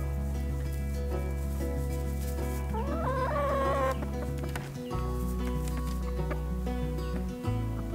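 Free-range chickens cluck and call on a homestead near a feeder, their voices scattered over a dense, continuous bed of tonal background sound that masks them.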